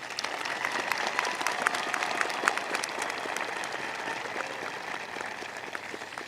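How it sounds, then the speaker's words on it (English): Sustained applause from an audience at a high school graduation ceremony honoring graduating students, dense steady clapping throughout with faint crowd murmur. "Please join me in giving these students a round of applause."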